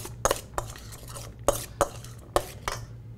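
Fresh salsa with cilantro and jalapenos being tossed in a bowl: a handful of sharp utensil clinks and scrapes against the bowl, spaced irregularly, close and fairly quiet with no talking.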